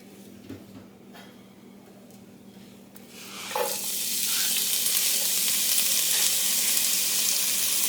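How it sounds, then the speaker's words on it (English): Chopped onion drops into hot oil in a pot and a loud, steady sizzle erupts midway, continuing strongly after a quieter stretch of faint crackle. "just got some oil in the pot heating up, and I'm going to throw some onion in it"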